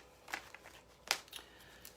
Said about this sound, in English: I'm just shuffling the deck right now.